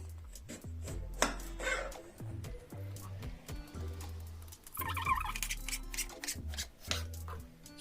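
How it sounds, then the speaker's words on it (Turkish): Eggplants are chopped with a knife on a board in a steady run of close, crisp thuds, with some bursts quicker than others and no voices. "İlki bilen baklajanları keseceğiz."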